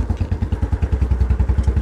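A Royal Enfield Bullet motorcycle sets off with a loud, steady, thumping single-cylinder beat, heard close and continuous with no speech.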